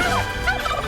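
Turkeys gobbling in the animated Christmas film That's Christmas after being let loose from their pen, a dense, continuous babble of gobbles filling the short moment with no speech.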